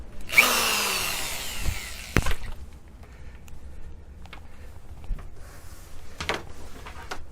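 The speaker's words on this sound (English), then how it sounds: "Let's get to drilling some holes." A corded electric drill drilling holes in a sled's top rail whines up loudly in a short burst, then quieter clicks and handling noises follow, with another brief drill burst near the end.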